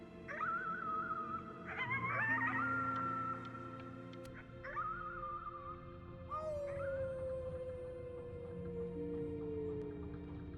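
A voice howls at the moon in the Before Your Eyes video game. Wavering, tonal wails rise and fall over a low sustained musical drone, in several spaced phrases, with the last gliding slowly downward.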